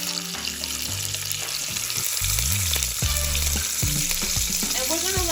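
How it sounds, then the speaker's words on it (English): Branzino (European bass) fillets searing in a hot pan, a steady dense sizzle and crackle filling the whole stretch, with clinks of a utensil and pan shifting over it. "That noise that we want to hear, that nice sizzling noise"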